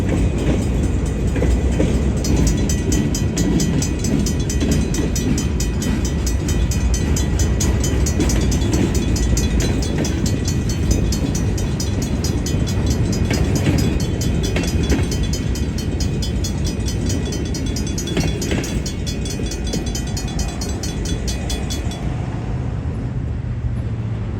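A long freight train rolls steadily past at close range near Highway 22, its rumble continuous with rhythmic clacking of wheels over rail joints throughout.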